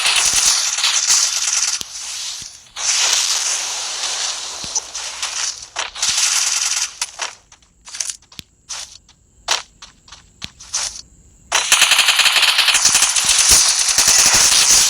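Rapid bursts of gunfire from the Free Fire video game, loud and close, with dense automatic volleys broken by short pauses and single cracks, ending in a sustained barrage, no talk over it.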